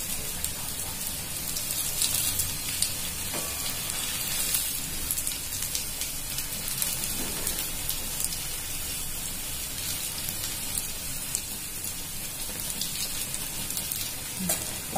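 Black urad dal medu vada deep-frying in hot oil, a steady dense crackling sizzle that fills the whole stretch with no talk over it.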